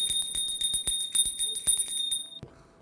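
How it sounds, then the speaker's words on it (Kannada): A temple bell is struck rapidly and repeatedly, its bright ringing tone sustained over the strikes until it stops abruptly near the end. "ಒಂದು ದೇವಾಲಯ ಗಂಟೆಯ ಸದ್ದು ಕೇಳುತ್ತದೆ"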